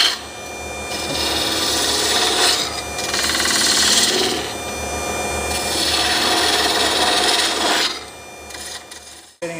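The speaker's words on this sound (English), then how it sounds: "I'm cutting towards the two lines I made." A gouge on a wood lathe cuts a cove into a spinning wooden candlestick, making loud, close scraping and rasping in several long sustained passes, with brief breaks between cuts.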